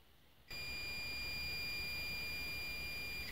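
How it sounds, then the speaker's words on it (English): A multimeter set to continuity beeps as its probes touch the ground prong of a 3-prong power cord and bare metal on a vintage Delta drill press: one steady, shrill tone starts abruptly and holds, loud and close, with no talk. "That tone confirms continuity, so the ground is good."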